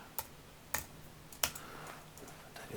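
Sparse keystrokes on a computer keyboard while C# code is typed into an ASP.NET WebForms project: a few distinct, separated clicks over a faint room background, with no talking.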